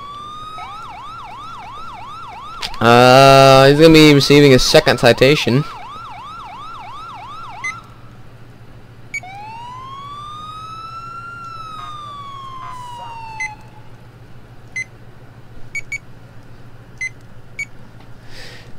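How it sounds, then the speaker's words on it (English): Police car siren in the LCPDFR police video game, wailing and yelping in rising and falling sweeps, with a loud electronic burst and a horn-like tone, while someone talks intermittently. "the sirens come on when the freaking high beams come on"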